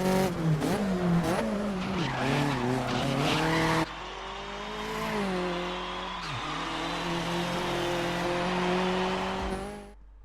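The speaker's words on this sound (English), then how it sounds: "So now we are back to Porsche 911 GT4" Porsche 911 GT4 997 race car in GRID 2019, engine droning loud and steady with harmonic revving, shifting pitch through gear changes and long stretches of tire squeal and skidding.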